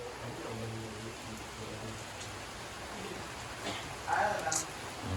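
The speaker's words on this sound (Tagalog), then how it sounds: "So ayan, umuulan na." Rain falling at a resort, a soft steady hiss of drops on surfaces heard from nearby, running under quiet talking voices throughout.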